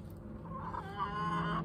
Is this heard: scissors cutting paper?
no